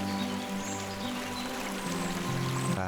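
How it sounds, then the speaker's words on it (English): A video game river flows in a steady, close rush of water, continuous and even in level with a faint tonal background layer and no talking. "A river, which you can only hear when you get close to it."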